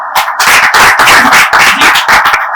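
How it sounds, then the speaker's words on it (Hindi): An audience at an Independence Day Kavi Sammelan poetry evening claps to welcome guests, a loud, close, dense burst of applause that swells and dips throughout without pause. "सबसे पहले मैं आप लोगों का स्वागत करूंगा, तालियों से"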